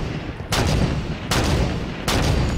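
Three loud, booming gunshots in the video game Halo 5, evenly spaced about three-quarters of a second apart over a dense, steady rumble of game noise.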